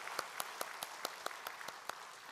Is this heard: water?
no